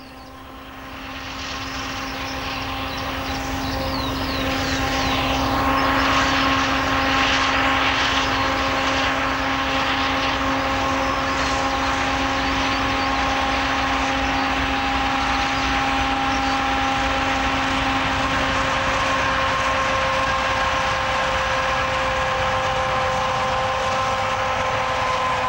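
A Class 232 'Ludmilla' Russian-built diesel locomotive drones steadily after a gradual build-up, with a loud sustained engine roar and a low, even hum that persists for the whole stretch.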